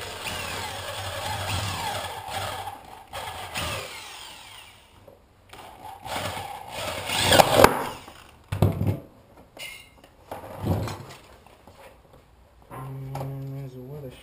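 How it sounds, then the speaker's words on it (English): A power drill whirs in several short bursts, starting and stopping, close by, drilling out a rivet on a car door panel, with a voice talking between bursts. "I'm going to drill this single rivet right here."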